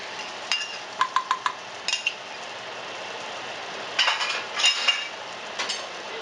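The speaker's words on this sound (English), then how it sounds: "Scramble that egg very well." An egg being scrambled in margarine in a hot pan for fried rice, with a few sharp metal utensil taps and scrapes against the pan over a steady low background hiss. No talking.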